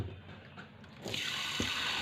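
Water runs from a kitchen tap into a pot of rice being prepared for a meal, starting suddenly after a quiet moment and continuing as a steady, close splashing stream.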